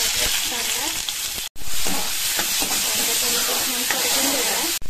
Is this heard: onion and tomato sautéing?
yes